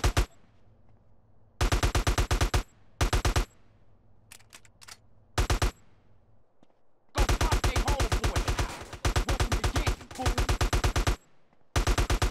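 Gunfire in GTA San Andreas comes in rapid automatic bursts. Loud rattling volleys of varying length break up short quiet gaps, along with a few isolated single cracks.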